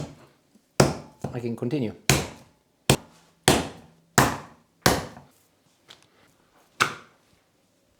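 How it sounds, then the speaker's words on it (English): A kitchen knife chops through meat for cutlets on a board in a series of sharp, separate thunks, about eight in all, with brief pauses between them and a few words spoken between the cuts. "I'm going to cut it in half with a knife"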